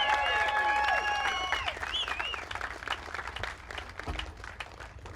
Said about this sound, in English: Let's get a big round of applause for Mr.